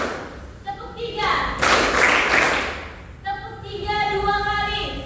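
Children clap their hands together in a classroom, a dense burst of claps in the middle between stretches of a teacher's sung chant, loud and close.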